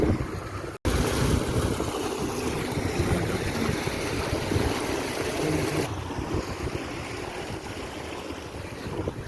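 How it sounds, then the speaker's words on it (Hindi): A small irrigation channel in a farm field carries flowing water, a steady, broad rushing wash mixed with wind buffeting on the microphone, close and loud throughout with one brief dropout. "यहाँ पे ये पानी कितना सुंदर बह रहा है"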